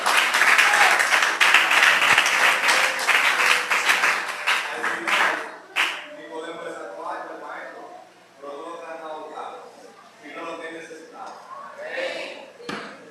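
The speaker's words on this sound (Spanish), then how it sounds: "Dele un aplauso a Cristo." Congregation applauding during a church service, a loud dense burst of clapping for several seconds that fades out, followed by a speaker talking with a few scattered claps.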